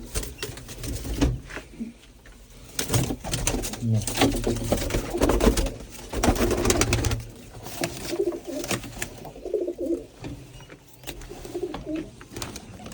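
Pigeons kept in a rooftop loft coo repeatedly in low throaty bursts throughout, amid wingbeats and shuffling, while people talk nearby.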